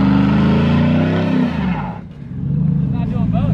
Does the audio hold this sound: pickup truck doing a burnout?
yes